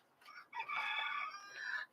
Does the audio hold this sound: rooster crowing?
yes